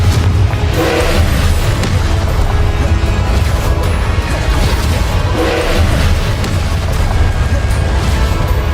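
Confringo explosive spell blasts in the video game Hogwarts Legacy, loud repeated booming crashes and bursts over a dense, continuous rumble of combat noise, with several sharp impacts spread through the stretch.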